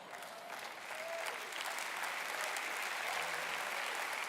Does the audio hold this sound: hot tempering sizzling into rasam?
no